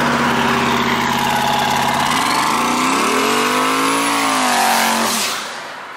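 A turbocharged truck engine runs loudly nearby, idling with a deep rumble, then revs up and winds back down before settling toward idle.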